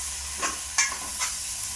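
Curry simmers in a pan over a soft steady sizzle while a spoon stirs it in three short scraping strokes, close and fairly quiet, with no talking.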